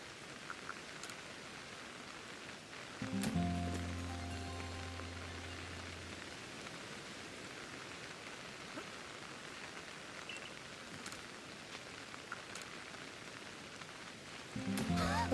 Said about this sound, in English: I know I rested and it started raining